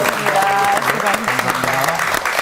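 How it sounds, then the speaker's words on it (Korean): A television studio audience applauds in a dense, sustained burst of clapping while a voice talks over it. "그리고 동훈 교수께 우리 큰 박수 보내드리죠."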